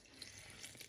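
Water running from a tap into muffin batter ingredients, a brief faint trickling splash with no voices.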